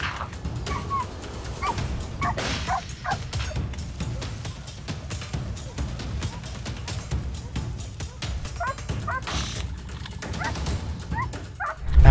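Hunting dogs barking and yipping during a wild boar hunt, an excited pack giving repeated overlapping barks and whimpers against steady outdoor background noise.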